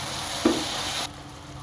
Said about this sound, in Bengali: পেঁয়াজ রসুনটা কষানো হয়ে গেছে এখন একটু সামান্য পরিমাণ পানি দিয়ে দিচ্ছি